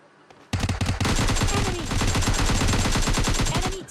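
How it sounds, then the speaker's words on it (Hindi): Gunfire in the mobile battle game PUBG Mobile Lite: a solid wall of rapid automatic fire erupting after a brief quiet start, loud and continuous with overlapping bursts from several weapons. "अब जैसे दोनों को नॉक करता हूँ सामने से भी फायरिंग आती है"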